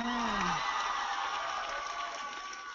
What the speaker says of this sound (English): Now cheer.